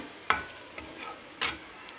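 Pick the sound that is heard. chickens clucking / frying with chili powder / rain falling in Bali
frying with chili powder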